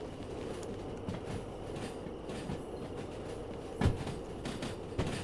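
Train rolling on rails in the video game Derail Valley during a freight haul, a steady low rumble of wheels with a brief louder clank near the end, no talking.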